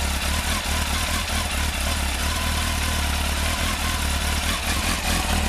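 A Kawasaki ZX12R motorcycle engine runs steadily after a spark plug change, a loud, continuous low rumble with clattery mechanical texture held close throughout, no voices.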